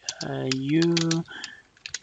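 Rapid keyboard clicks from typing a pip install command at a computer while configuring a Cuckoo sandbox, a few taps at the start and end around a sustained, drawn-out voice.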